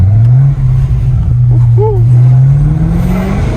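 A BMW F90 M5 Competition LCI with its V8 engine droning loudly from inside the cabin with the windows slightly open, pitch rising steadily as it revs, with a brief shout of excitement partway through.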